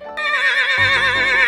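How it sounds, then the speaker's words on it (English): A single horse gives one loud, sustained whinny, wavering and high-pitched, heard close and alone with a faint low rumble joining partway through. "The horse says."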